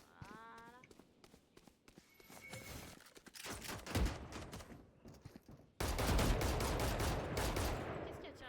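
Rapid gunfire from a team-based shooter video game, with bursts and sustained firing that swells loud and dense in the second half, mixed with footsteps and game effects.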